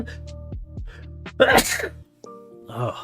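A single sharp sneeze bursting out close and loud in the middle of the clip, with brief talk before and after.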